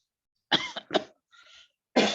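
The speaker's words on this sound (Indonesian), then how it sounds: "Maaf, saya agak batuk ya." Several sharp coughs from a lecturer during an engineering mechanics class: two close bursts, a softer throat-clearing rasp, then another cough, each separated by silence.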